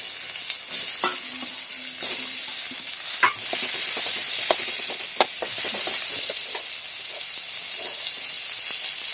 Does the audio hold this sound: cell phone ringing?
no